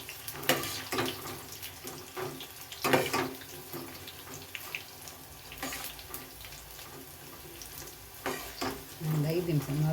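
Curry leaves frying in hot oil for dry cauliflower gobi, sputtering crackles and bursts of stirring, fairly quiet, with a faint voice toward the end.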